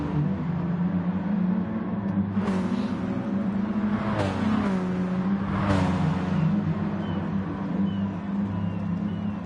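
Hot hatch race cars roar around the Dragon Trail circuit in Gran Turismo Sport, a sustained layered engine drone with several sharp revving surges as cars accelerate and pass close by.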